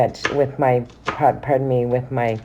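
A knife roughly chops onion on a board for a vegetarian coconut curry, with a few quick cuts under a voice that hums or talks throughout.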